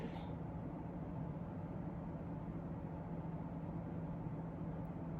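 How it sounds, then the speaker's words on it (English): A home heater runs with a steady, loud mechanical hum and broadband rushing noise, constant throughout, no other sounds. "It's my heat. It's super loud."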